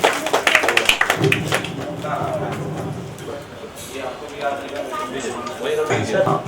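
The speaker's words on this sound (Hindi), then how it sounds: "जोरदार ताली के साथ सर का स्वागत है" Scattered rhythmic clapping welcomes a guest at a farewell party, brisk at the start and then thinning under someone speaking, with claps returning near the end.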